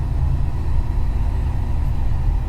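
A converted US Postal car hot rod engine idles with a deep, steady, loud low rumble, close by and unbroken, with no talking.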